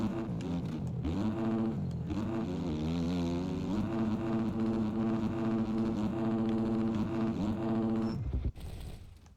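Triumph motorcycle engine being ridden hard, a close, loud rasping note that climbs and falls with the throttle through several rises before cutting away near the end.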